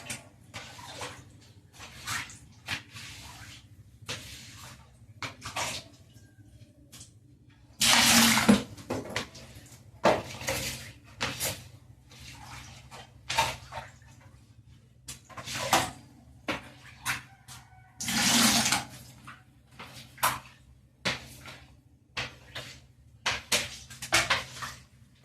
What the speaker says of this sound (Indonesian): Aku masukin ke dalam serokan untuk airnya